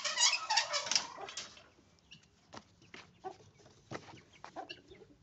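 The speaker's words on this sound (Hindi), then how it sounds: "ये मैं आपको अपनी मुर्गियाँ दिखाता हूँ सारी जो हैं उधर।" Aseel hens clucking at close range, a dense burst of calls in the first second and a half, then scattered softer clucks and chick peeps spread through a quieter farmyard.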